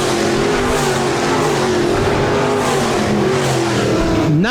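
RaceSaver sprint cars and sport modified race cars at Park Jefferson Speedway, a loud continuous roar of multiple engines at full throttle close by, steady throughout with a sharp rising rev at the very end.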